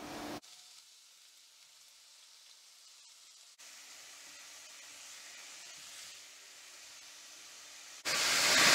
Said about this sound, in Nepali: मैले यसरी ओइल राखेको छु भेजिटेबल्सलाई तावामा राखेर भुट्ने छौ